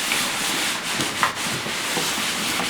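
A hand rubbing grease into a drum, a steady close dry rasping friction with slight swells and no talking.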